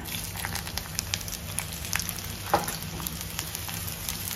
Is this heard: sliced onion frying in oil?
yes